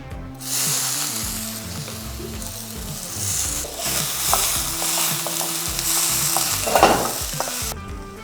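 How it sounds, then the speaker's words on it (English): Chopped onion and garlic frying in a pan for marinara sauce, a steady, close sizzle with stirring scrapes throughout, under soft background music. "add some garlic and then leave it to fry"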